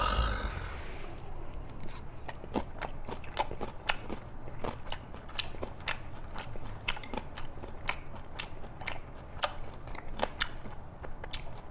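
Close, crisp chewing of boiled pork belly and mushrooms, with steady wet crunching and sharp bites repeating throughout, soft background hiss and no talk.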